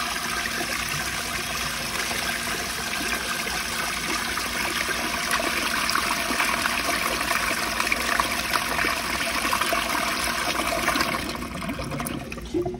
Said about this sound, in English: Let me give it another flush with the handle held down.